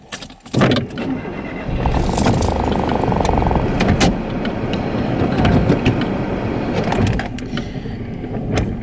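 A woman gets into her car: a door clunks shut early, then keys jangle and small mechanical clicks and rustles sound close by over a steady low vehicle hum, with no talking.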